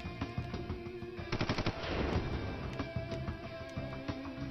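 Gunfire in the Mad Carnage video game on Nintendo Switch: a loud burst of rapid synthetic shots in the middle, with a few scattered single shots before and after over a steady game soundtrack.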